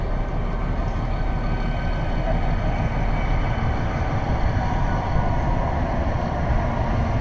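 A train passes near a hillside resort in Ooty, giving a continuous heavy rumble and roar that holds steady and loud throughout with no voices.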